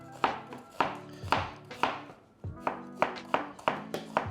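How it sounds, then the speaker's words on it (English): A knife slicing an onion into long, thin strips on a board, a run of about a dozen crisp, evenly spaced cuts up close with no talk, pausing briefly midway. "And now we're going to cut into long, thin strips through the onion"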